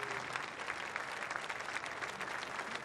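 Funeral attendees for Silvio Berlusconi applaud outside the cathedral, dense steady clapping heard from a distance at modest level, with no voices over it.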